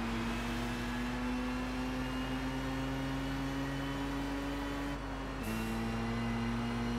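A modified Mazda RX-7 in Gran Turismo 6 holds a high, steady engine whine near the rev limit for several seconds, then the pitch dips slightly and settles again, loud and close with no talking.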